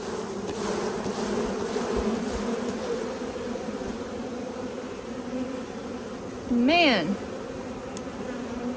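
A honey bee colony swarming from its hive gives a steady, dense buzzing hum, with a brief, louder insect flyby rising and falling close to the listener near the end.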